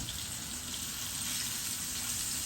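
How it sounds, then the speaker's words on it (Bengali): Dried fish frying lightly in a pan for a curry, giving a steady, soft hiss and crackle of hot oil that carries on evenly and close by. "একটু হালকা ভেজে নেবো"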